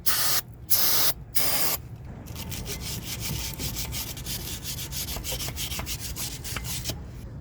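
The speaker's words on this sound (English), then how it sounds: "Go ahead and just spray the caliper down." Spray aimed at a Mercedes W222 S-Class front brake caliper: three short, loud hissing bursts in the opening two seconds, then a steadier, quieter hiss with faint dripping and rustling continuing close by.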